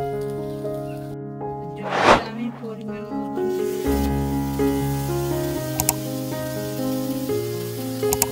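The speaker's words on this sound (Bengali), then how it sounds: "এবার দিয়ে দেবো জল।" Water poured into a pan of rice and raisins being fried for a Bengali vegetarian rice with pointed gourd, a brief loud splashing burst followed by steady sizzling and bubbling over background music.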